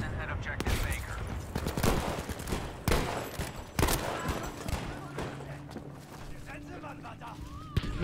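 World War II tank battle in a video game, Sherman against German armour, with dense bursts of gunfire and sharp blasts packed together and recurring throughout, loud and close, with faint game voices mixed in.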